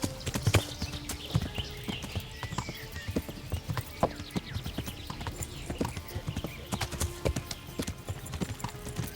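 Horse hooves clip-clop steadily on the ground in the medieval Bohemian role-playing game Kingdom Come: Deliverance, a brisk continuous rhythm with an occasional whinny and faint talk in the background.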